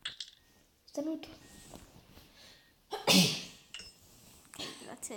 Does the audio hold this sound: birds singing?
no